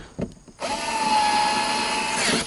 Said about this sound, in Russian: И прикручиваем обратно болтик.